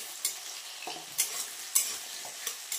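Small-cut potatoes fry in a pan with a soft, steady sizzle. Several crisp scrapes and clinks from stirring rise above it, and no one speaks.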